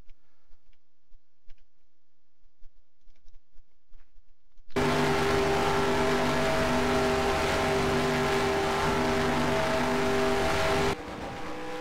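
Steady, loud engine drone heard from inside a race car, starting abruptly after a near-silent opening and holding a constant tone for several seconds before cutting back to quiet.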